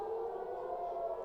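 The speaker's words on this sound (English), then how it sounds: "obviously you can hear the sirens." Civil defense air raid sirens wail steadily over Tel Aviv, a sustained tone held without a break, moderately loud and distant-sounding, with no speech over them.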